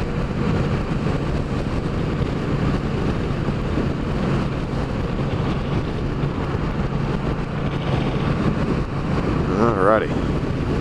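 Triumph Street Cup motorcycle on the road, a steady broadband engine drone mixed with heavy wind rush over the microphone throughout, continuous and close with no gaps.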